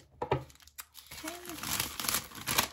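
Tape is cut and cardboard packaging of a witch-themed subscription box crinkles and tears open nearby, with irregular rustling bursts and a short squeak, plus faint voice sounds.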